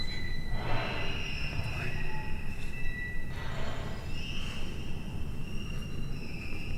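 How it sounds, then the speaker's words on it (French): Eerie metallic squealing like a runaway shopping cart in an abandoned shopping mall horror piece, thin high whines sliding over a constant dense rumble that runs throughout. "C'est peut-être un bruit de caddie ou je ne sais quoi."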